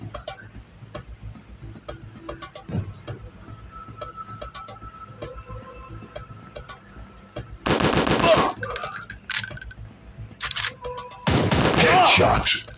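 A shooting video game fires rapid bursts of automatic gunfire, sparse shots early on, then long, loud sustained volleys near the end, with game voices talking in the background.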